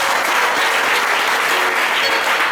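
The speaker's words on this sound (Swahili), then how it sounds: "Hebu mpe Yesu makofi yake." A church congregation at a Sunday prayer service applauds for Jesus, a dense, steady wash of many hands clapping close by that fills the whole stretch evenly.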